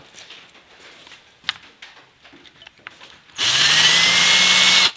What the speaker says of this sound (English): First I need to drill it out.